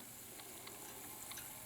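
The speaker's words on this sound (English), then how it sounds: "that button is just bubbling" Hydrogen peroxide fizzing on a metal-detected button, a faint, steady crackle of tiny bursting bubbles with soft intermittent pops, close and quiet, no voices.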